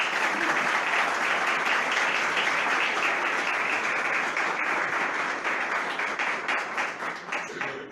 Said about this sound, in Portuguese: Gostaria que fosse recebido com uma salva de palmas.